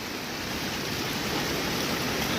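Konkan river swollen by heavy rain rushes in a dense, continuous roar of water, loud and steady throughout, with no voices.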